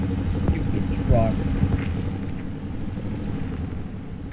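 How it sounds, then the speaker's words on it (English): A car's engine drones in a video game while it drifts, a steady low rumbling hum running throughout with a brief rising whine partway, fairly quiet and continuous. "Alright, we're drifting."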